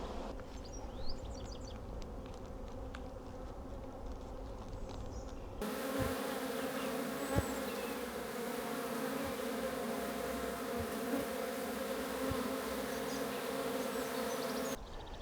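A honeybee swarm buzzes around a hive box as bees fan outside it, a dense, continuous insect drone that swells louder partway through, with a few faint bird chirps in the background.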